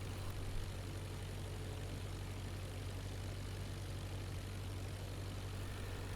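Simulated aircraft engine at 1000 RPM in the World War I flight game IL-2 Flying Circus, a steady, unbroken drone with a low hum, alone.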